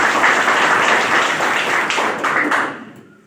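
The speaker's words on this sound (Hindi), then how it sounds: "एक बार जबरदस्त ताली होनी चाहिए" An audience at a life insurance gathering bursts into dense, loud applause that holds steady for a few seconds, then fades out.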